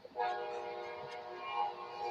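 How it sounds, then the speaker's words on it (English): Eastbound train bound for New Orleans sounding a sustained, steady horn chord as it rolls past, the blast holding at a fairly even level throughout with faint rumble beneath. "Hey, where's that train going?"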